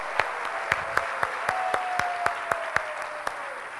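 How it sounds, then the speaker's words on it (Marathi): An audience at a Marathi business motivation talk claps together in a steady, evenly spaced rhythm, a series of sharp beats over a low crowd murmur. "एकदा जोरदार टाळ्या आपण वाजवूया"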